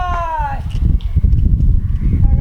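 A castrated male goat for sale in a village gives a loud bleat up close, with rough broadband noise and further livestock sounds continuing behind it.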